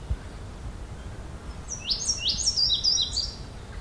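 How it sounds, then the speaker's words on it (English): Eastern kingbird calls in a Southern Ontario summer setting, a run of short, high, buzzy chatter notes over roughly two seconds, moderately faint and distant above steady broadband background noise. "I'm also hearing an eastern kingbird here too."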